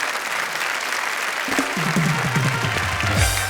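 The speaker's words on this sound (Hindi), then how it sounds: "जोरदार तालियां इनके लिए" Audience at a Hindi poetry and shayari show gives strong applause for the poets, dense continuous clapping that carries on under a voice in the second half.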